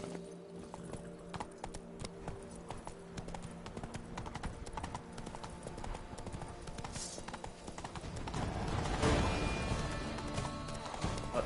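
Hooves of the horse Roach clip-clop steadily through the Witcher 3 game world, a continuous even rhythm in the foreground that grows a little louder and busier toward the end, with no talking over it.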